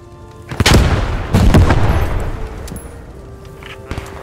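A frag grenade explodes in the Post Scriptum video game, with a sharp nearby blast followed by a second boom and a fading rumble, then quieter distant gunfire.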